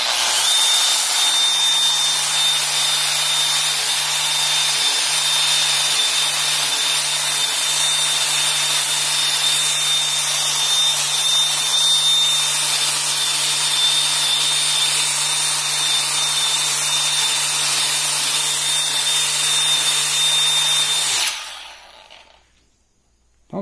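A Makita M9400 belt sander fitted with a 100-grit belt runs steadily on wood, a loud, continuous whirring drone with no talk, stopping abruptly near the end.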